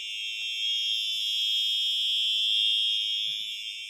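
A home fire alarm under test gives a steady, continuous high-pitched electronic tone that holds evenly throughout, fairly quiet, with faint handling noise and a small knock near the end.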